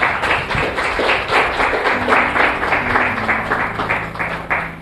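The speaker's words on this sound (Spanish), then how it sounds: "Dale un aplauso grande a Jesús" A church congregation applauds after a prayer, a dense, steady roll of many hands clapping with some rhythmic beats and a faint background tone underneath.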